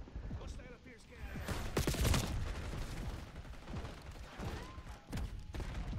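Gunfire in the game Black Ops 6, including a poorly performing shotgun, comes as several sharp bursts and bangs amid clattering mechanisms, mid-distance and moderately loud, with talking throughout.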